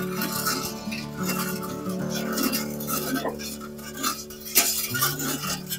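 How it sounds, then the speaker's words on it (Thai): A spoon stirring brown and white sugar into liquid for Thai iced coffee, clinking steadily against the inside of a glass or pot as it swirls, with someone talking over the stirring. "คนให้น้ำตาลละลายเลยนะคะ"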